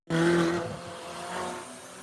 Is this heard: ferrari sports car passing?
yes